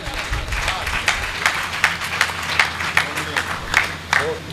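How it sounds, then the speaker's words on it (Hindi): An audience at a Hindi comic poetry gathering at an ashram claps for a poet, steady overlapping applause with crisp individual claps over a low rumble of crowd noise, fairly loud and continuous. "एक बार मिलकर तालियां बजाइएगा हरमिंदर पाल के लिए"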